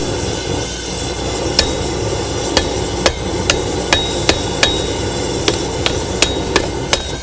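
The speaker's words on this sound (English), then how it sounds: "I just have to hammer it in on one side and then flip it over and do the other." Sharp metallic hammer strikes on a metal rivet for knife tongs ring out one at a time at an uneven pace, about a dozen blows over steady background noise.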